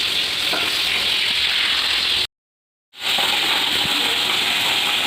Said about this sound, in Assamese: পাপাই মাছ ভাজিছে গৰমত